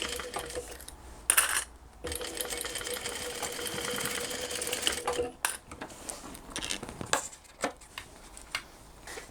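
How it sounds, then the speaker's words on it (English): Close and fairly loud, a sewing machine runs along a cross-body bag's edge at a 10mm seam allowance, humming continuously for several seconds. Scattered clicks, clacks and handling knocks from fabric and the machine follow. "we're going to sew along that edge at the 10mm or 3/8 of an inch."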